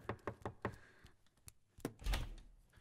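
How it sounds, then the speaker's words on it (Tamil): Knocking on a wooden door at night in a Tamil horror film scene, a quick run of four sharp knocks, then a pause and two heavier thuds, moderately close with no voices. "யார கதவு தட்டுறாங்க?"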